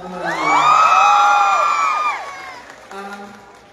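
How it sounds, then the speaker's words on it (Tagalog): Crowd at a live concert in Camarines Sur lets out a loud sustained cheer with whoops and shouts, swelling and then fading over a few seconds, with a brief voice near the end. "Once again, sa mga sigaw kong palakpakan naman."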